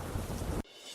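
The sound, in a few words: heavy monsoon rain with thunder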